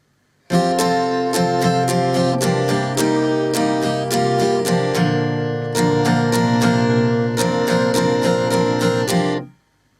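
Close guitar plays a quick rhythmic pattern of chords and picked notes, sharp attacks in regular bursts, pausing briefly midway before ending cleanly.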